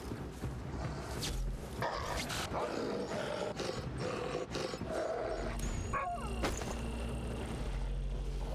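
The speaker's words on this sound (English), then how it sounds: "Sounds like those rascally wolves again." Wolves snarling and growling in the video game Assassin's Creed III, harsh overlapping growls and barking snarls over a constant layer of game ambience and music.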